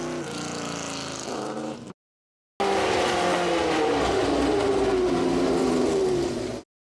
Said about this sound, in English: I can't get enough of these engines.